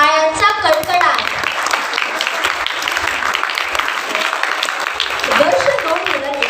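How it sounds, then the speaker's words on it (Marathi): An audience at a school's Marathi choral recitation for standards V to VII applauds the Green House team. The clapping is dense and steady and runs through most of the moment, with children's voices heard at the start and near the end. "ग्रीन हाऊसला त्यांच्या प्रेरक सादरी करण्यासाठी टाळ्यांचा कडकडाट"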